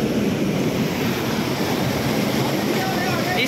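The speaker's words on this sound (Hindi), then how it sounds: "वो पानी वहाँ से इस नहर के अंदर आ रहा है जी" Rushing water pours steadily from large pipes into a big Lahore canal, a dense continuous roar with no pauses, close and loud.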